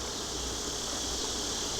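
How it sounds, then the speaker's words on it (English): Honey bees swarm over a hive super, giving a dense, steady buzz at close range. "This super's covered with bees."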